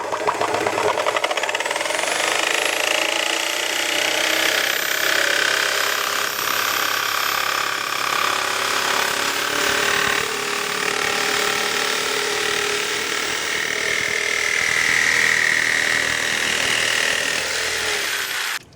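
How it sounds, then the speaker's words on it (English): A jigsaw cutting a plastic PC case bezel on a Corsair 200R mid tower, a loud, steady, buzzing rasp that runs nearly unbroken for close to twenty seconds before stopping abruptly. "I just missed a little bit here with the jigsaw"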